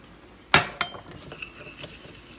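Whisk clinking against a pot while flour is mixed into water to re-cook leftover ugali: one sharp metallic strike followed by several lighter taps and scrapes, close and quiet.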